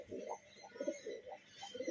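Male pigeons coo in soft, repeated throaty phrases at close range, a steady run of low burbling calls with no talk over them.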